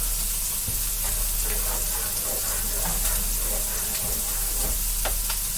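Steady loud sizzling from a pot of pork ragout as peppers go in, with a constant hiss and a few scattered stirring clicks and spoon scrapes, no voice.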